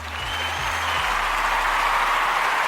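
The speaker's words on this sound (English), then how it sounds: "applause. Give it to me. I like it." An audience applauds for a basketball podcast, steady dense clapping that swells and holds loudly, with a short musical pulse at the start.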